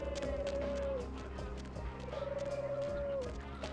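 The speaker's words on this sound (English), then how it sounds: "is that a phone or is that a pigeon? It sounds like a pigeon." A pigeon cooing in the Vampire: The Masquerade – Bloodlines 2 video game, two drawn-out tonal coos a couple of seconds apart over a steady ambient rumble, fairly faint.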